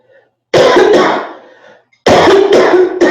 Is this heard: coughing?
yes